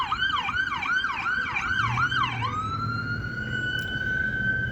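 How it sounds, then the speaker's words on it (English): A loud wailing emergency vehicle siren cycles rapidly up and down, then shifts to a steady high tone as the vehicle passes by and fades. "Wait for the siren to go by."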